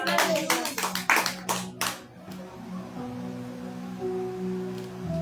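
A church congregation claps loudly together in a burst of hand applause that fades after about two seconds, leaving soft worship music sustained underneath.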